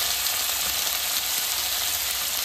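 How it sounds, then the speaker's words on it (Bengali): Cut cauliflower pieces frying in oil with turmeric, a steady close sizzle with continuous crackling texture and no voices. "এতে করে ফুলকপিটা কিন্তু ভাজাও হয়ে যাবে আর একেবারে নরমও হয়ে যাবে"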